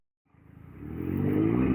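An Infenity LS350F 350cc motorcycle starts moving and builds from quiet to a steady, rising engine drone with a low rumbling exhaust, close and loud by the end.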